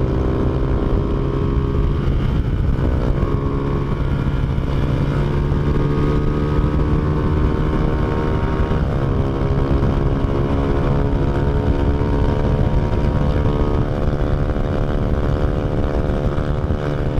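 Honda Fan 125 motorcycle engine holding steady revs while climbing a hill, a continuous loud drone with stable harmonics throughout, no talk over it.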